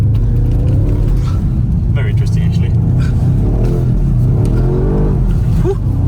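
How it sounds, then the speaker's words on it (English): BMW M5 accelerating hard, a loud close engine roar with rising revs and gear changes, heard from inside the cabin with people talking over it. "the car moves, obviously like you would imagine an M5 to move"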